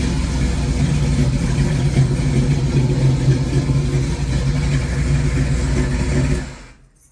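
A 2022 Harley-Davidson Nightster motorcycle engine runs steadily at idle, a close, loud low rumble with an even throb that holds for several seconds before cutting off abruptly to silence.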